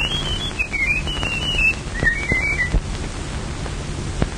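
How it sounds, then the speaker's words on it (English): A man whistles a short, wavering tune in two phrases over a hissy, noisy background with faint thuds, heard alone without speech. "No two men could ever whistle exactly like that."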